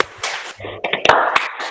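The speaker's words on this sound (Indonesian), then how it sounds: "masih ada yang tepuk ya" Sharp hand claps in a classroom during a group clapping exercise, several quick uneven claps in a cluster near the middle, close and moderately loud, with children's voices and chatter mixed in around them.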